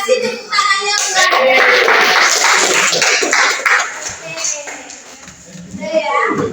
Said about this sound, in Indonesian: Ayo kasih tepuk tangannya buat.